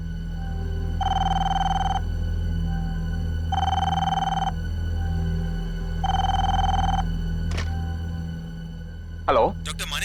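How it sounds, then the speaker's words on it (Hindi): A telephone rings late at night indoors, three long electronic ring bursts evenly spaced over a low steady hum, with a brief sharp sound near the end. "इतनी रात गई, किसका फोन है?"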